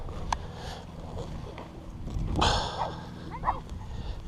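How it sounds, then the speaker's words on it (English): A dog barks in short, sharp yips and woofs on a sandy beach during a metal detecting hunt, several close bursts with a brief whimper, over wind and low background noise. "Getting surrounded with barky dog."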